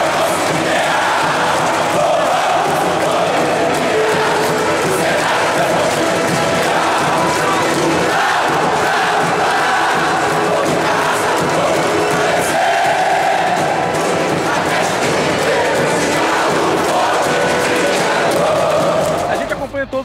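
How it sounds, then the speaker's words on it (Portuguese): Atlético Mineiro (Galo) supporters chanting and cheering at Independência stadium, a loud, continuous roar of crowd voices filling the whole stretch with rising whoops and shouts. "A torcida do Galo é uma torcida que realmente faz barulho, faz a diferença"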